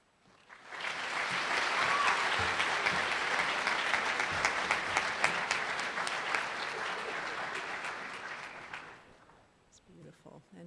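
An audience breaks into sustained applause, rising quickly to a full, dense roar of clapping that holds for about eight seconds before fading out, with faint voices afterward.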